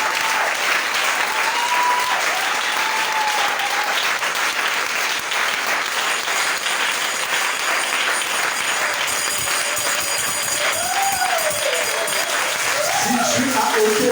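Enthusiastic audience applause at a church seminar, dense steady clapping throughout, with a voice and cheers rising over the crowd toward the end.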